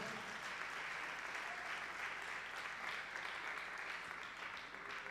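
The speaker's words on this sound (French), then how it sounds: "Je vous demande d'applaudir le Seigneur encore une fois" Steady, sustained applause fills a graduation ceremony hall for an evangelical theology seminary, a large audience clapping continuously at even volume throughout.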